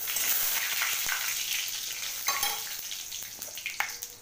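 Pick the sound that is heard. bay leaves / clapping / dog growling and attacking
bay leaves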